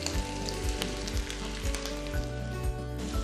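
Chicken mince frying in a karahi pan, a dense, steady sizzle with crackling pops, loud and close, and no voices.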